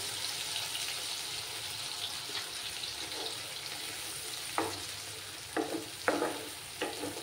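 Spice paste frying in a pan for a bean vegetable dish, with a steady close sizzle and several sharp scraping stirs and clinks toward the end, without talking.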